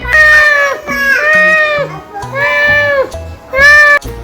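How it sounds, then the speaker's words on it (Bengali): A cat meows repeatedly, four loud drawn-out cries close by in quick succession, sounding almost like a wailing baby, with no other voices. "বিড়াল কিভাবে ডাকে।"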